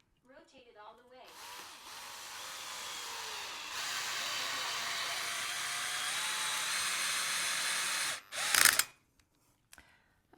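Power drill boring holes into a bedroom wall to mount a TV: a voice briefly at the start, then a long, steady whirring drone that runs for several seconds and stops with a short clatter.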